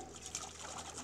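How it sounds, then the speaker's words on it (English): Water poured into the base of a homemade water-fuel engine apparatus, a steady close trickle and splash running the whole short moment with no talk. "So we simply put water in it."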